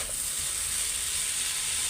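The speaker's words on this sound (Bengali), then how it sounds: "তারপরে ভাজিটা বসাই দিলাম" Potato bhaji fries in a pan at home with a steady, close sizzling hiss, crackling evenly without a pause.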